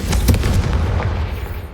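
A Confringo fire spell explodes in the Hogwarts Legacy video game, a loud close booming blast with a crackling burst that rolls off into a decaying rumble.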